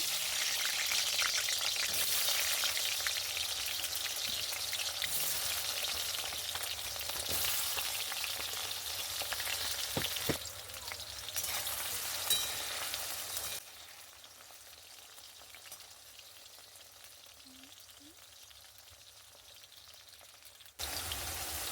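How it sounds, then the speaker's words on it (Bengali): Potato pieces frying in hot oil in a wok, a dense continuous sizzle and crackle close by, loud at first and then settling to a quieter steady fry, with no talking. "এবার আমি আলু আর পটলগুলোকে আগে ভেজে নেব প্রথমে দিয়ে দিলাম আলু"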